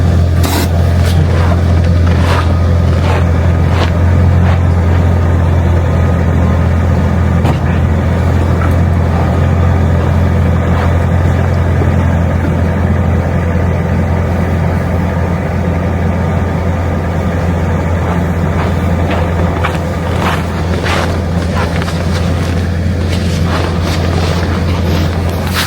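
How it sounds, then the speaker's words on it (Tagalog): A motor idles to warm up in freezing weather in Galena, Alaska, producing a loud, steady low rumble and hum that runs without a break for about 25 seconds, with occasional faint knocks and rattles. "Habang pinapaikot natin yung habang pinapainit yung makina"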